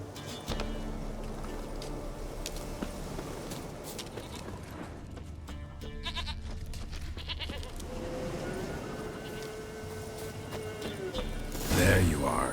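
A goat bleats in Witcher 3 a few times amid quiet ambient game sound, with a voice speaking and a louder sound near the end.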